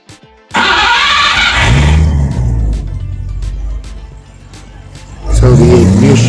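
A Triumph TR8 cranks briefly on its starter, then the engine catches and settles into a loud, steady idle close by, rising into a rev near the end.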